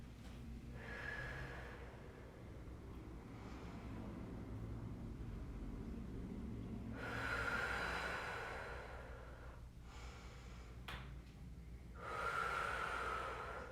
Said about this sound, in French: On essaie de suivre le rythme de notre respiration.